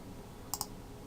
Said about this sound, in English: click on the image